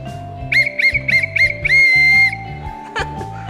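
A toy whistle gives several quick, shrill chirps in a row, then one longer sustained blast, loud and close, over a bouncy musical backing, followed by a brief squeaky toot.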